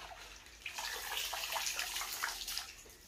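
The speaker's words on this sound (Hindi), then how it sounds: "तो इसको ऐसे धोएंगे, थोड़ा ऐसा गर्म पानी मैंने लिया है" Saag greens being washed by hand in warm water, with steady splashing and sloshing close by, loud and continuous with no talking.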